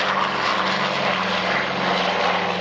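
Vintage pre-war US Army Air Corps transport aeroplane at a warbirds airshow, its propeller engines droning in a steady, loud, even roar with a low hum throughout and no voices.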